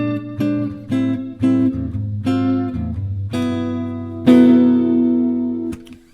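Jazz guitar chords voiced with tritone substitutions, struck one after another in a steady sequence of about seven ringing chords, each sustained until the next, played clearly and alone.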